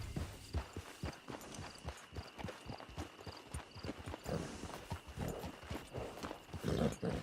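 Horse hooves clip-clop in an even walking rhythm in the video game Red Dead Redemption 2, the strikes steady and moderately close and growing a little louder near the end.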